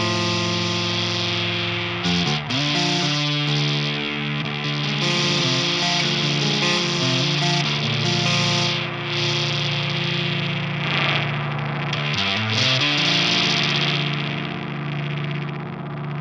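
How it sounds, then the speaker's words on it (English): A TWA MiniMorph MM-01 foldback distortion pedal with fuzz blended under a clean guitar signal, sustained chords ringing with a textured, gritty edge and a couple of chord changes, loud and continuous with no talk. "You can keep that kind of clean sound in there and just bring in that fuzz in the background a little bit"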